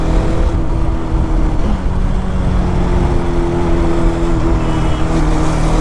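A Bajaj Dominar 400 motorcycle ridden at full throttle, its engine droning loud and steady with constant wind rush from onboard the bike.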